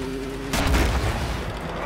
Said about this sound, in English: Hear that explosion?